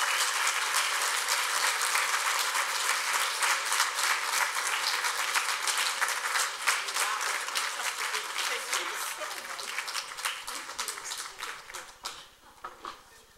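Sustained, dense applause from a convocation audience welcoming a speaker fills the room for over ten seconds, then thins out and fades to scattered claps.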